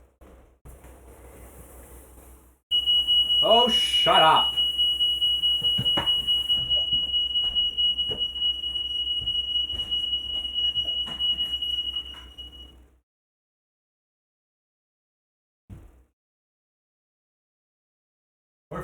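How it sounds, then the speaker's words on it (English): A modern smoke detector goes off in a kitchen where bacon-wrapped chicken is cooking, sounding a loud, shrill, continuous alarm tone for about ten seconds before cutting out. Someone briefly shouts as it starts. "Modern smoke detectors are stupid sensitive."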